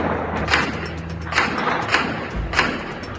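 Fireworks set off by Taliban fighters in Kabul celebrating their takeover, a series of dull booming thuds at irregular intervals, about four distinct bursts over steady background noise.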